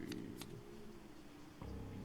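Cards being shuffled in a Tabletop Simulator game of the Pokémon Trading Card Game, a couple of quick riffling bursts early on followed by a faint continuous rustle, with no voices.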